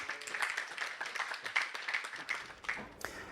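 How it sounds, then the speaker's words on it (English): An audience applauding for Professor Go Wang at a lecture event, a steady patter of clapping from a modest crowd, fairly faint and even, fading out after about three seconds. "Give him a round of applause."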